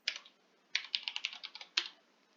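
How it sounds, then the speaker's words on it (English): Quick bursts of keystrokes on a computer keyboard while typing into Minecraft chat, three short clusters of close, clicky taps with brief pauses between them. "Say I type something in the chat."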